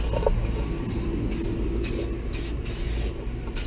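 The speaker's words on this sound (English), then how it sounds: "Spray painting the bottom." Spray paint hissing in repeated bursts while coating the underside of a Jeep XJ, close and steady, with short pauses between passes over a low rumbling background.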